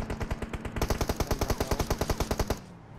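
Automatic gunfire in the mobile game PUBG Mobile on the Miramar map, a loud, rapid, evenly spaced burst of shots lasting over two seconds before cutting off abruptly.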